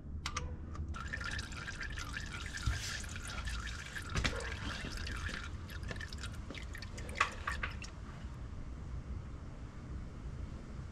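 A steady trickle of engine oil draining from the oil pan of a 2011–2018 Ford Focus, a continuous faint liquid patter with occasional drips, heard close with no voices.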